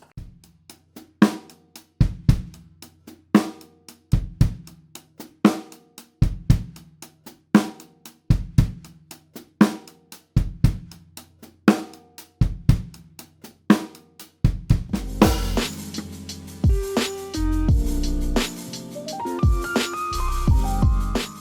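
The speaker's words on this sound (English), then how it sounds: "I like to play a left foot stepped hi-hat before each backbeat." A drum kit lays down a steady sixteenth-note groove with crisp hi-hat ticks, a left-foot stepped hi-hat before each backbeat, and punchy kick and snare hits, then opens into a busier, crashing wash of sound.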